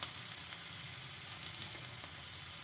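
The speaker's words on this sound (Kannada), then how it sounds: "ಮೆಣಸಿನ್ಕಾಯಿನ ಸ್ವಲ್ಪ ಹಸಿ ವಾಸನೆ ಹೋಗೋವರೆಗೂ ಸ್ವಲ್ಪ ಈರುಳ್ಳಿ ಜೊತೆ ಫ್ರೈ ಮಾಡ್ಕೊಂಡ್ಬಿಡಿ" Green chillies and onion frying over a low flame in a small kadai give off a steady, even sizzle that runs throughout, close and fairly quiet, with no voices.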